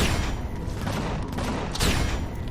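Laser rifle fire in the Empyrion video game aimed at a giant snow monster: a dense, continuous rattle of rapid shots with one louder burst near the end, loud and close, with no talking.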